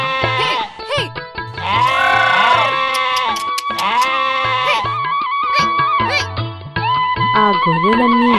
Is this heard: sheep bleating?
yes